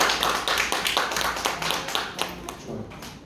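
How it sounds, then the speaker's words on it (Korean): A group of children at a church elementary Sunday school claps together in a burst of uneven, rapid hand claps that fades toward the end, close and moderately loud. "박수 한번 해주자"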